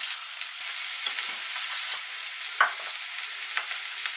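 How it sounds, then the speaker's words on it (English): Chopped onion sizzles in olive oil in a pot, a steady close frying hiss broken by a few soft scrapes as it is stirred, with no voices over it. "And give that a stir."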